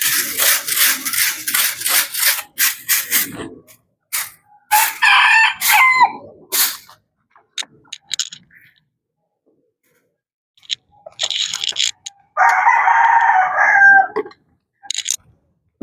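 Backyard chickens and a rooster, Culs breed, cluck and crow close by in loud bursts with brief gaps, the crowing calls rising and breaking off several times.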